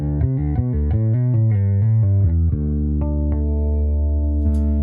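Bass guitar played through a chorus effect on a Neural DSP Quad Cortex, a steady run of loud, shimmering notes and chords sustained alone with no talk.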